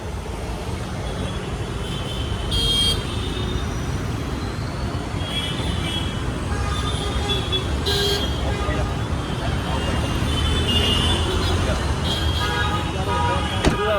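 Busy traffic rumbles throughout while car horns toot repeatedly, short honks scattered across the scene, with voices talking faintly amid the street noise.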